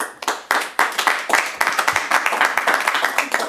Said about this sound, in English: can we please keep the applause down?